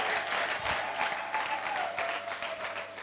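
A church congregation applauding, a steady wash of many hands clapping at moderate volume, sustained for the whole stretch with a faint crowd murmur.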